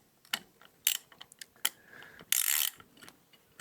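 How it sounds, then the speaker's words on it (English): An Allen bit on an extender turns a screw in the rear of a rifle buttstock, giving sharp close metallic clicks and ratcheting taps, with one longer scraping rasp near the end. "I'm going to take my 3/16 Allen bit on an extender, insert that into the rear of the buttstock"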